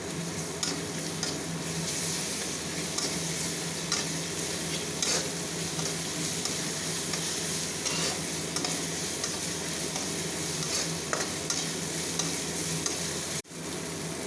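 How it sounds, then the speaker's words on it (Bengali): Ginger and garlic frying in a pan over browned onions for a fish chop, a steady close sizzle with soft scraping stirs running throughout and a brief clunk near the end. "পেঁয়াজটা লাল হয়ে এসেছে এর উপরে দেওয়া হচ্ছে আদা রসুন"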